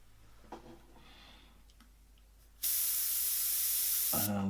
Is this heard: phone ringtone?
no